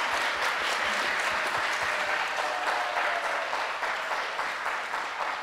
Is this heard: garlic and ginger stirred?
no